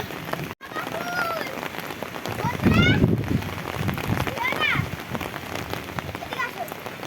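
Rain pouring steadily on an outdoor surface, a dense continuous patter with a heavier burst midway, while voices and bird calls come through over it.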